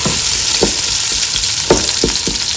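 Chicken and vegetables for sweet and sour chicken frying together in a pan, a steady close sizzle broken by several soft stirring scrapes and knocks, with no talking.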